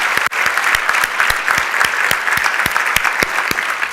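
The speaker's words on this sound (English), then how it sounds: "So let's give them all a warm round of applause." Warm applause from an audience at a Martin Luther King Jr. breakfast, a steady dense clapping that fills the whole stretch, loud and close, with no voices over it.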